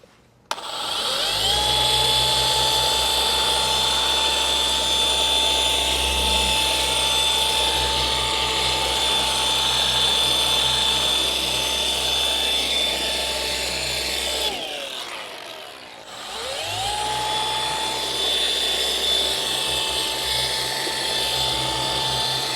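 A machine polisher runs steadily on car paint during a cutting pass, a continuous loud whine with a low hum that spins down briefly near the end, then starts up again.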